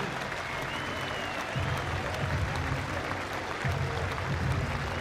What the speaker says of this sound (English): Everybody in the crowd up and applauding this Somerset effort.